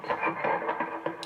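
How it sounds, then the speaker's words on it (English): A few notes of electric guitar ring out with delay and reverb, each note trailing into echoing repeats, played alone at moderate volume. "I just turned the delay down just a little bit, and I turned the reverb up"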